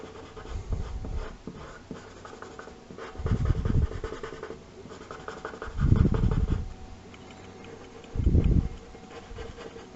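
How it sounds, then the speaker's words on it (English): A Staedtler Mars Lumograph black pencil shading a drawing of a horror creature, heard as repeated scratchy strokes in three or four distinct bursts with quieter pauses between, close and alone. "a Staedtler Mars Lumograph. It's the black pencil. Just maybe add a bit more shadow to the drawing, really."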